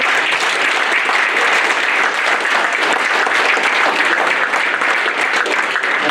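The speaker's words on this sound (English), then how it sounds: "let us give a nice round of applause to all of our..." A room of attendees at a fall legislative breakfast gives sustained applause, a dense, even wash of clapping that holds steady and loud throughout.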